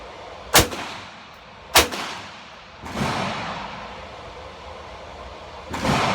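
Handgun shots fired one-handed with the weak hand at shoulder height: two sharp, loud cracks about a second apart, then a longer blast with a lingering rumble and another report at the end, all close by with no talk.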